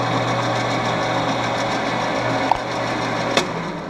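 Steady mechanical whine and hum of a metal lathe cutting a part and throwing off a long twisting chip, continuous throughout with a couple of brief sharp ticks near the end.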